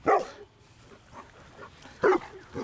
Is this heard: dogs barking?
yes